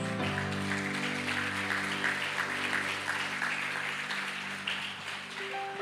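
A church congregation claps together in sustained applause over a steady bed of organ or keyboard tones, the clapping broad and continuous throughout.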